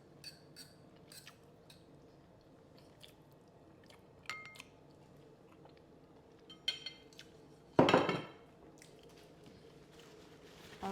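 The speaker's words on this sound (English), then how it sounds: "I'm gonna chew my food first before I talk." Someone chews smothered oxtail and rice close to the microphone, with soft wet mouth sounds and scattered clicks of cutlery against a dish, including one louder clatter partway through.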